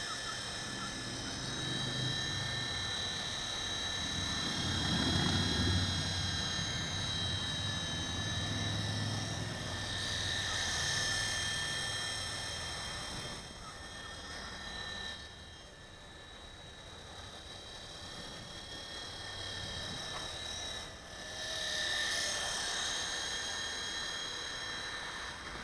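A WLtoys V915 Seeker toy RC helicopter flies nearby with a sustained high, tonal rotor whine that swells and dips as it manoeuvres, with no talking.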